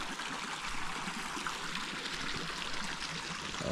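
Water pouring steadily from a hand-operated village water pump in Nyabohanse, Africa, a continuous close splashing stream with no pauses.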